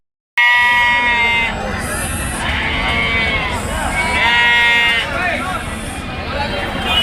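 Sheep bleat repeatedly at the Kunta sheep and goat market, several loud, wavering calls close by, overlapping one another against a busy market background.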